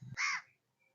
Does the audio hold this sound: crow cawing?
yes